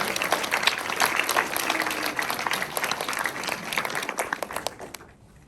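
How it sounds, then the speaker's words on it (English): Applause from a conference audience greets a Best Paper Award at CHI 2026, a brisk round of many hands clapping that holds steady, then fades out into quiet. "let's give it a big round of applause"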